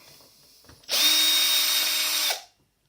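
A power drill whirs in one steady burst of about a second and a half, removing a screw from an ADJ Mega Tripar Profile light fixture, close and clear against a quiet room.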